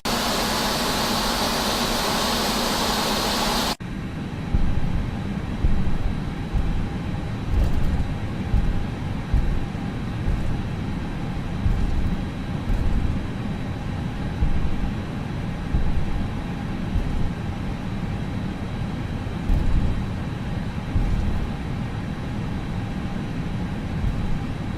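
An airliner takes off from Qiqihar Sanjiazi Airport bound for Dalian, heard from inside the cabin as a loud, steady engine roar and rushing air with a low rumble throughout.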